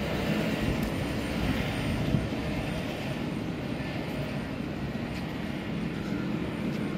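Intercity train IC1018 pulling out of a station, a steady low rumble and broadband roar that holds evenly throughout, moderately distant with no talk.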